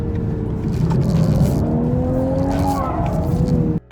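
A new Toyota Supra slides on track with its rear tyres squealing, rising and falling squeal lines over a loud, steady engine roar that cuts off abruptly at the end.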